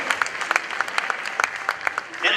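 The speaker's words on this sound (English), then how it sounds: "Shall we do a big round of applause for her?" Scattered applause from a small crowd at a media awards ceremony, with individual claps distinct and a brief murmur of voices at the end.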